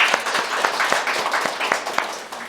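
A church congregation claps together after the pastor invites praise during a Sunday service. The applause is brisk and rhythmic, with sharp individual claps close to the microphone throughout.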